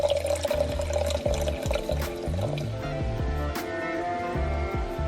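A drink is poured into a glass during home dinner cooking, a steady liquid fill running throughout under clinking kitchen sounds and background music, fairly close.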